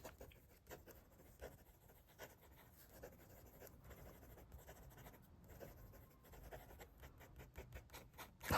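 A Nahvalur Triad fountain pen writes quickly on paper, giving faint, close scratchy strokes in a rapid, uneven rhythm with a slight bump at the very end.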